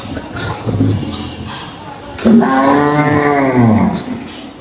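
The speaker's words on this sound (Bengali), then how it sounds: "এই যে আরেকটা গরু আসতেছে পাকড়া।" A cow at a cattle farm, shown during an Eid livestock display, gives a loud drawn-out moo while someone talks nearby over crowd murmur.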